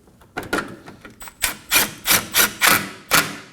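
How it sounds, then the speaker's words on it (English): A Phillips head screw being driven in while a windshield washer reservoir is installed on a 2014-2020 Acura MDX. A run of sharp, close clicks and knocks speeds up into about six distinct ratcheting taps, with no talking. "Now we can install the Phillips head that goes over here"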